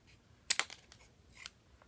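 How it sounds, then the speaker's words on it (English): Household scissors snipping to shape a small homemade knife blade: a couple of sharp crisp cuts, then fainter scattered snips, close and quiet with no talking. "you just shape the blade how you want with your scissors"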